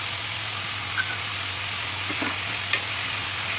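Coconut masala with coriander seeds sizzles in a pan as it is stirred, a steady, even frying hiss with a couple of faint scrapes of the spoon.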